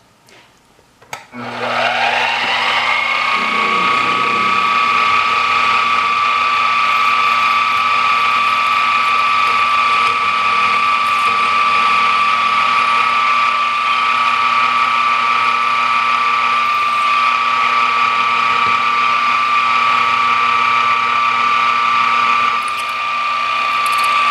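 An 11/32 drill bit bores a hole in metal for a dishwasher towel rack: a steady, loud whining hum with a sustained tone runs unbroken from start to finish, close up with no talk.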